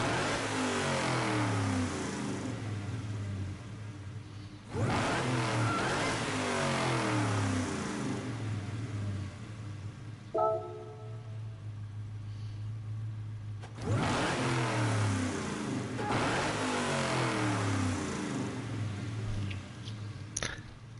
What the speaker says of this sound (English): let's see what the Camaro sounds like